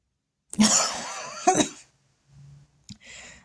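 Two harsh, close coughs in quick succession, followed by a short pause, then a quieter rumble and one more brief cough.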